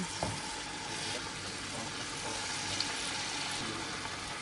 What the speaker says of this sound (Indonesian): kemudian nanti kita akan goreng tempe yang masih sisa